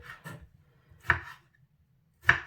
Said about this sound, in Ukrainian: Нарізаємо зелені помідори, у мене різного кольору, різного розміру